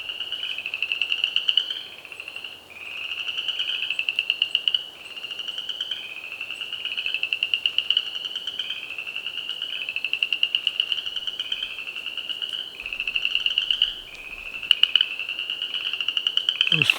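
Frogs calling in a steady, repeating chorus of rasping pulses from an unseen spot outdoors in deer-hunting woods, moderately near and continuous with no talk.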